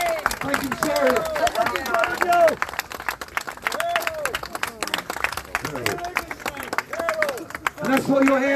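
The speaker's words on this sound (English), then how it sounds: "give this man a round of applause, please" Scattered clapping from a crowd at a street demonstration under shouting and cheering voices, with people talking loudly over the noise.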